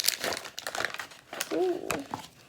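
A plastic bag holding slime is handled, giving crisp crinkling and rustling throughout, near and moderate, while a person speaks over it.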